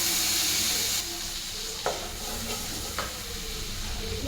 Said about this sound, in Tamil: இதுலேயே இன்னும் கொஞ்சம் பட்டர் போட்டுக்கலாம்.